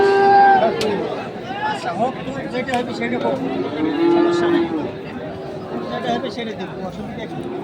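A Sahiwal bull moos at the Ambari cattle market, giving loud, close, drawn-out calls among the busy murmur of the crowd. People talk nearby throughout.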